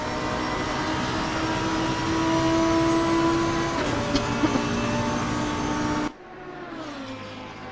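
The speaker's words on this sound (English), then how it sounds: "Christian Julian in the Lamborghini machine, taking the first chicane nice and smoothly there" A Lamborghini GT race car's engine drones loud and steady through the Imola chicane in a racing video game, its pitch shifting as it brakes and accelerates, then cutting to a quieter, more distant engine note.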